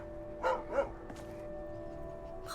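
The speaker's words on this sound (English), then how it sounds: "Hello, strange puppy." A dog in the game Skyrim gives two quick, close barks, followed by brief faint clicks and a soft hum in the background.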